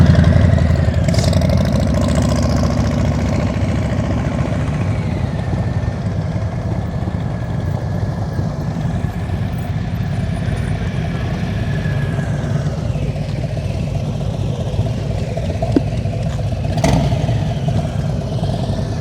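A motorcycle engine hums steadily at low revs with the throttle held during slow-speed riding practice. The even drone runs throughout, with faint background noise.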